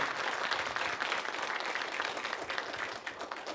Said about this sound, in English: So let's give our dancers a round of applause right now